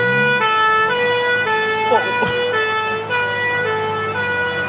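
A fire truck siren at Manchester Airport wails loud and close, holding sustained tones with brief pitch shifts, while a vehicle rumbles and a sharp knock sounds once.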